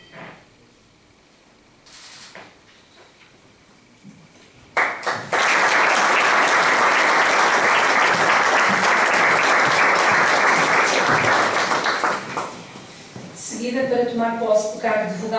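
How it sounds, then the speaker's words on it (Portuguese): Sustained audience applause at a Portuguese Red Cross delegation board swearing-in ceremony, a dense loud wash of clapping lasting several seconds after brief speech, then dying down as a voice resumes. "Aplausos."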